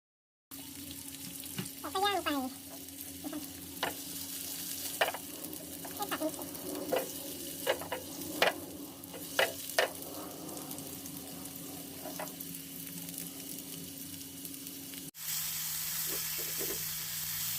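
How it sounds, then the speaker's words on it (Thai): Sliced shiitake mushrooms and vegetables fry in a pan for a breakfast egg dish, a soft steady sizzle with repeated sharp clicks of a utensil stirring and tapping, moderately close and quiet. "เราก็จะฝานใส่ลงไป ย่างพร้อมกันจนกระทั่งมันสุก"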